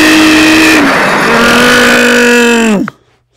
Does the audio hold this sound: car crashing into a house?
yes